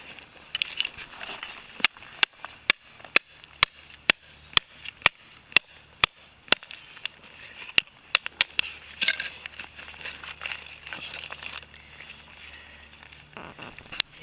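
A steel chisel strikes shale-like rock during fossil hunting in Ordovician beds, giving a steady series of sharp, evenly spaced metallic taps, followed by a looser cluster of faster blows and scraping outdoors.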